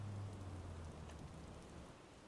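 Steady rain in the video game Farming Simulator 25, a continuous broadband hiss of falling water with a low hum underneath, even and sustained without speech.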